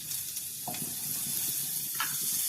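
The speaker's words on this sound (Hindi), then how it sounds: "अब हम ड्राई फ्रूट को रोस्ट कर ले रहे हैं, मक्खन डाल ले रहे हैं" Dry fruits roasting in melted butter in a pan for carrot halwa, a steady close sizzle with soft stirring scrapes and small crackling pops, no voices.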